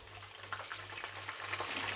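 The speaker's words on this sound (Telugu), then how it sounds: "ఇప్పుడు ఇందులో మనం వంకాయ ముక్కల్ని వేసేసుకుందాము." Eggplant pieces dropped into a pan of frying onions and tempering spices, a soft steady sizzle with scattered crackles and a low hum beneath, quiet and close.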